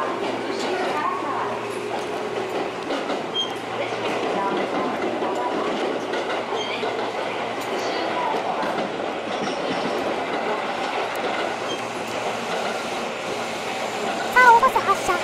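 A Tobu 8000 series train on the Tobu Ogose Line rumbles steadily along the rails with a continuous low clatter, heard from inside the carriage, and a few louder knocks come near the end.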